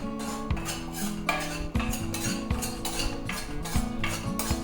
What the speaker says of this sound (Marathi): बघा आता गव्हाचं पीठ भाजीत आहे मंद आचेवर भाजायचं